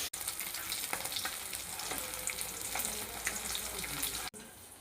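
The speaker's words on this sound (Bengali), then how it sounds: "এই যে আমার মা এখানে মাছ ভাজছে" Fish frying in hot oil in a wok in a home kitchen, a dense continuous sizzle heard fairly close with faint clatter, cutting out abruptly near the end.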